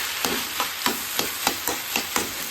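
Onion and tomato masala frying in a pan while being stirred, with a steady sizzle and a regular series of spoon scrapes and knocks, about every half second, close and fairly loud with no talking.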